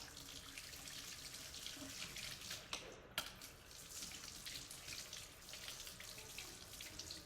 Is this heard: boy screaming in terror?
no